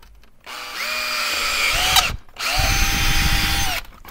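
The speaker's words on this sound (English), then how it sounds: "drill on that pilot hole there." A power drill enlarging a pilot hole on a Land Rover LR4 spins up and bores in two bursts with a brief pause between, its motor whine rising as the bit bites, close and loud.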